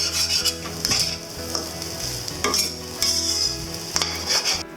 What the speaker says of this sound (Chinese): 撒上葱花，翻炒一下下